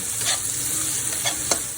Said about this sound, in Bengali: এটাকে ভাজা ভাজা করব, ভাজা ভাজা করে